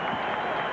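Crowd of Washington Bullets basketball fans cheering for the home team in an arena at the University of Maryland during a 1973 NBA game against the Knicks, a steady, dense roar of cheering and applause.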